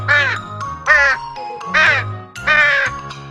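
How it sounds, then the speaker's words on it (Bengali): A crow perched on a dry date palm caws four times, loud and harsh, in evenly spaced calls with short gaps between them. "একটা কাক সামনের শুকনো খেজুর গাছে বসে কা কা করে ডেকে উঠল"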